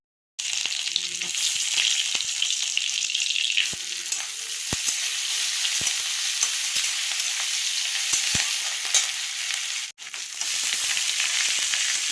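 Dried red chillies fry in hot oil in a pan, giving a loud, steady sizzle that runs almost without break and cuts out briefly once near the end, with no voices over it.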